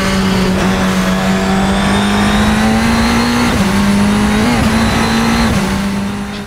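Race car engine on a lap of the Nürburgring Nordschleife in a racing game mod, a 425 horsepower ground-effect car, holding a steady high drone with brief dips as gears shift, loud and continuous with no talk.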